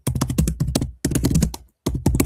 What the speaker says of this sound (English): you need to turn off your mic when you're typing